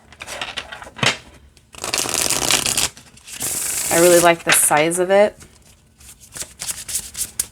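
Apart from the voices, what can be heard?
overhand shuffling of oracle cards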